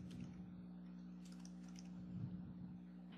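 A few faint key clicks as an application name is typed on a computer keyboard, heard quietly over a steady electrical hum.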